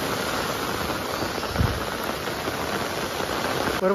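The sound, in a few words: heavy rain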